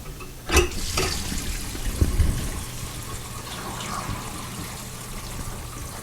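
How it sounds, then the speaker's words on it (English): Water drains from a filled bathroom sink with a newly replaced drain and stopper, starting with a sudden gush and settling into a steady, close gurgling rush that slowly fades. "after the sink fills up, we're going to let the water run out"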